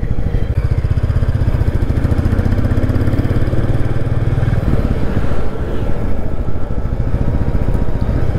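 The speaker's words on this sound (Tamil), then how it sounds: "இதோட நான் செகண்ட் டைம் ராயல் என்ஃபீல்டு ஓட்டுறேன்" A Royal Enfield motorcycle being ridden, its engine thumping loud and close in a steady, even rhythm throughout, with a slight shift in tone partway through.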